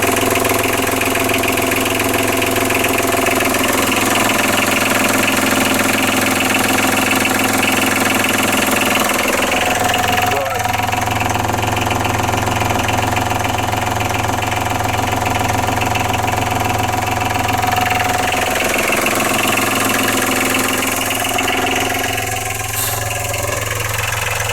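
A newly fitted engine idles steadily with a constant low drone and rhythmic knocking vibration, loud and close, the tone shifting slightly midway but running uninterrupted throughout.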